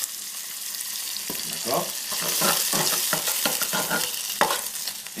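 Pork sizzles and fries in a pan with a spoonful of honey, a steady broadband hiss broken by clicks and scrapes of stirring, with a brief spoken word over the top.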